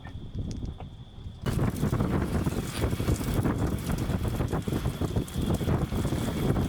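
Strong wind blows through the woods around a deer hunting stand, a quiet opening giving way to a loud, gusty roar buffeting the microphone for the rest of the clip.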